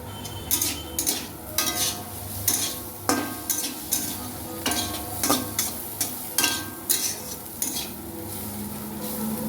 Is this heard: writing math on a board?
no